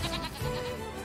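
A sheep in the NieR Replicant video game gives one short, wavering bleat on a grassy plain, close and clear, with no talk over it.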